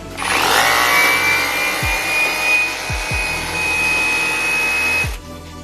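An INGCO 42V cordless rotary hammer runs for about five seconds with a loud, steady motor whine and grinding hiss, starting and stopping abruptly, with a few soft knocks underneath.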